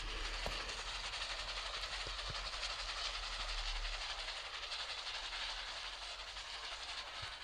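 A train rolls along steadily in the Roblox game Dead Rails, giving a constant rumble and hiss with faint clicks, alone and at moderate level.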